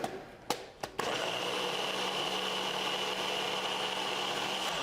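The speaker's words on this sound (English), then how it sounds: "pop it in the blender, put the lid on that." Kitchen blender pulsing roughly chopped ingredients into a thin dip: a few short bursts, then a steady, loud whirring motor drone that runs continuously to the end.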